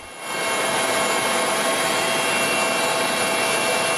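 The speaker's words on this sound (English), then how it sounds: "Helicopters dropping first responders onto the sinking boat." Rescue helicopters hover over a sinking ferry off South Korea, their loud, steady rotor and engine roar building quickly and holding constant at close range.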